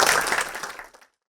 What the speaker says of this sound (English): one more round of applause maybe.